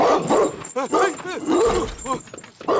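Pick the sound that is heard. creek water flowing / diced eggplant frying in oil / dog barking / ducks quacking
dog barking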